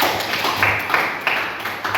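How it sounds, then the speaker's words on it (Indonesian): A classroom applauds a student named Aura with a short, lively patter of many hands clapping. The sound is close and fairly loud and stays uneven throughout. "tepuk tangan buat Aura"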